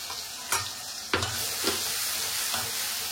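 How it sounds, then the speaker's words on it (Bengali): Onion-garlic paste hits a hot pan with a loud sizzle, steady frying hiss punctuated by several sharp clattering stirs and scrapes of a spoon. "এর মধ্যে অল্প একটু পেঁয়াজ রসুন বাটা আমি দিয়ে দিচ্ছি।"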